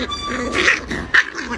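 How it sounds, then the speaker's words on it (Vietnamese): A big puppy gives short, sharp barks and yips close by, with two distinct bursts over a low background murmur. "mày đứng đó mày sủa."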